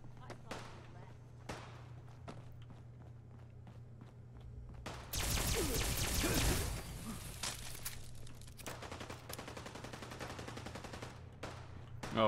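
Gunfire in a Fallout 4 Nuka World shootout, with scattered shots early, then a dense, loud burst of rapid fire lasting a couple of seconds, followed by continued lighter shooting and game sounds.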